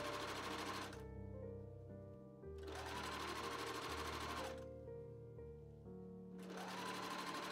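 A sewing machine top-stitches bias tape onto a dress in three bursts of rapid, even stitching, separated by short pauses; close and clear with no talk.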